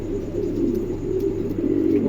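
A high-quality Bony Red male pigeon coos in a steady, continuous low murmur that stays close and fairly loud throughout.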